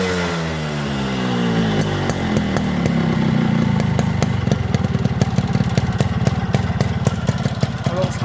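A Yamaha RX 100 motorcycle fitted with its original silencer pipe starts up and settles into a loud, steady two-stroke idle, its rapid popping exhaust rhythm running close by for the whole stretch.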